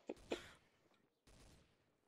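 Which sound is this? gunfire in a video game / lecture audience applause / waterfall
gunfire in a video game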